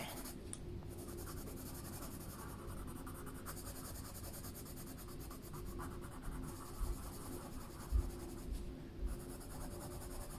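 A 10% cool gray colored pencil burnishes paper in small circles, giving a soft, continuous, quiet scratchy rubbing with a few slightly louder strokes near the end.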